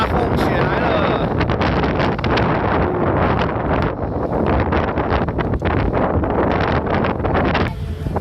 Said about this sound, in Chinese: 大风雪来了。